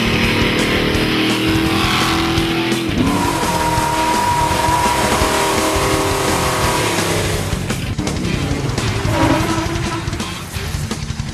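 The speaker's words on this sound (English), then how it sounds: "this remarkable team took a stock UPS truck and turned it into a race-worthy machine" A stock UPS delivery truck converted into a Pikes Peak–style race truck roars loudly and continuously, with engine revving and tire squeal over a steady mechanical din, tapering slightly near the end.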